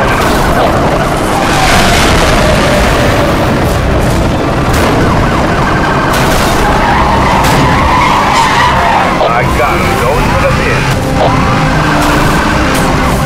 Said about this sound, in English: I'm going to ram the vehicle